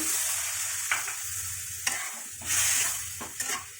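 Spice paste with water fries in a pan for paneer murighonto, sizzling steadily while a spoon stirs it in several distinct scraping strokes, close and fairly loud, with no talking.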